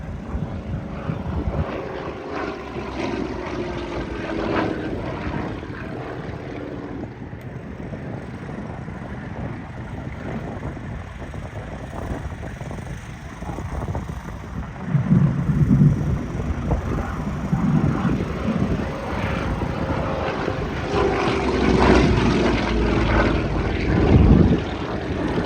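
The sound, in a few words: Yak propeller aircraft flying at an airshow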